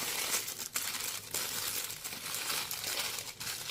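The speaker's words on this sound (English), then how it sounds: "So open the plastic wrapping." Plastic wrapping crinkles and crumples continuously as it is opened around a Casio MTP-V006L-7C watch, close and steady with a few sharper rustles.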